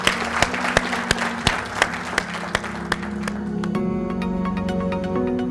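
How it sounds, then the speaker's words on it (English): Sparse, loud individual claps ring out close by at an awards ceremony, spaced irregularly, then fade into a low hum with faint background murmur. "So please, big round of applause for the Gordian Knot winners for the nursing team from Atascadero."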